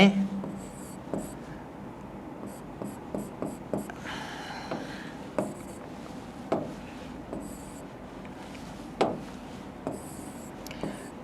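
Marker or chalk scratches and taps on a board in short strokes as math is written, spaced irregularly across the stretch, with a voice speaking quietly underneath.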